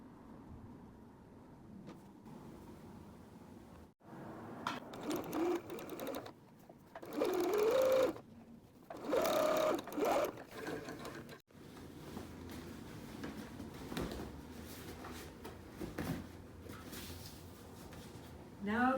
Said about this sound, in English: I'm going to sew with the sewing machine very close to those folds